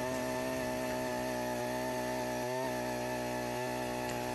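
Coffee-hole auger drill mounted on a wheeled push frame, running with a steady droning small-engine whine and strong harmonic hum, close and continuous, with a couple of brief load dips.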